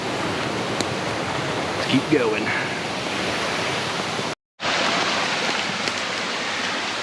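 A Vermont river rushing steadily outdoors, a constant broadband wash of flowing water close by, with a person speaking briefly over it and a short cut in the sound partway through.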